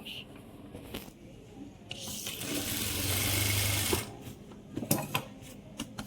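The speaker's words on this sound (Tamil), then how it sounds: "கேன்வாஷ் மேலே படாமல் தையல் போடணும்." A sewing machine stitching fabric and canvas runs in one steady, close whirring burst of about two seconds, with quieter handling noises before and after.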